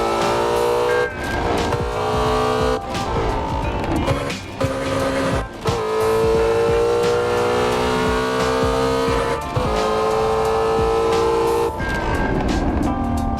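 A 770-horsepower Mustang GT350 engine in the racing game Assetto Corsa, loud and close, holding a sustained high-revving drone with rising pitch sweeps and brief drops between gear shifts.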